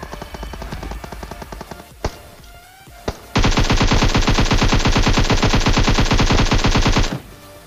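AKM assault rifle in PUBG Mobile, a few scattered shots early on, then a long, loud sustained burst of rapid automatic fire lasting about four seconds before it cuts off.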